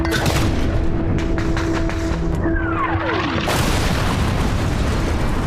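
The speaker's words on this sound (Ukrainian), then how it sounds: "Граната!" A grenade explodes in the war-ruined city of Avdiivka near Donetsk, a loud sudden boom that cuts off a descending whistle and leaves a broad noisy rumble, with continuous gunfire and battle noise around it.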